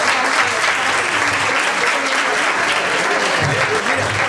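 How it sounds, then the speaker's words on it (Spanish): Studio audience applauding at a Spanish-language talk on veganism and fibre, a dense steady round of clapping heard close and continuous throughout. "Un aplauso para el señor que dejó de ser diabético."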